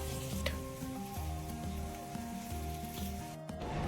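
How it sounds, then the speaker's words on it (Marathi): Green peas sautéed in hot oil for an aloo matar dish, giving a continuous close crackling sizzle with a brief stirring scrape near the end, and no talking. "सारखं तेल सुटलं आता टाकून देऊ आपण हे मटर आता परतून घेऊ"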